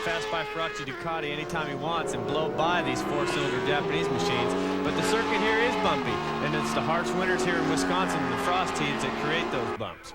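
Superbikes race at Road America in a 1993 AMA round, their high-revving engines whining and shifting pitch as they pass. The engines run loud and continuous under steady commentary.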